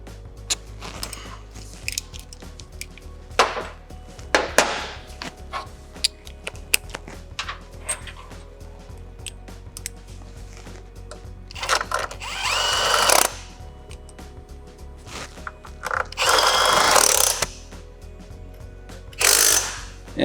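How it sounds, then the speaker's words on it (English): Ratcheting clicks and bursts of a tool at work as a torque wrench tightens the front axle bolt on an RX6 sport touring motorcycle, coming in short separate spurts with pauses between, close and fairly loud, with no talk. "I'm going to torque this to around 40 foot-pounds."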